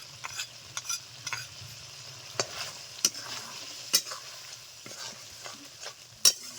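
Stir-frying with ground cumin paste in a pan, a soft sizzle under repeated sharp clacks and scrapes of the spatula against the pan, close with no voices.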